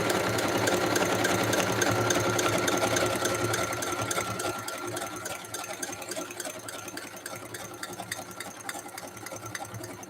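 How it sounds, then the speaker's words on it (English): A sewing machine stitches fabric scraps down onto a notebook cover, its needle running in a steady, fast mechanical chatter that continues the whole time, loud and close, easing slightly in the second half. "I'm just going to sew all these bits down"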